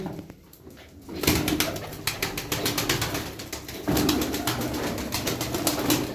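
Pigeons in a loft coo and shuffle nearby, with repeated soft calls and wing flutters rising from near quiet into a busy, steady chorus.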